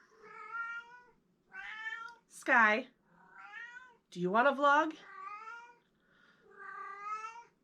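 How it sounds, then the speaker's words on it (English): Domestic cat meowing repeatedly, six or so drawn-out, close meows in an uneven rhythm, two of them louder and more strained, with someone speaking briefly between them. "Excuse my cat. She's obnoxious."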